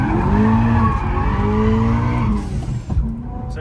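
A 750 hp BMW E90 M3 swings around on a mountain road in first gear, its engine roaring loudly and continuously while the tires squeal in long wavering howls, ending abruptly with a short scrub.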